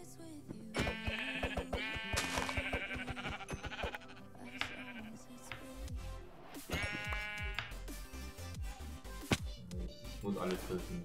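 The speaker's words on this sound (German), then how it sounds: "Richtig viele Schafe." Sheep bleat repeatedly in Minecraft Java Edition, several overlapping game bleats in irregular bursts, with game sounds underneath and no clear talk.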